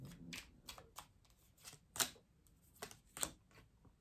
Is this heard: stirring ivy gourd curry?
no